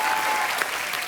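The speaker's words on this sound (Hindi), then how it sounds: "जोरदार तालियां एक बार।" Comedy talk show studio audience bursts into brief, even applause, a thick continuous patter of many hands clapping close by.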